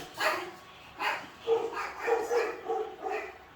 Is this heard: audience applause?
no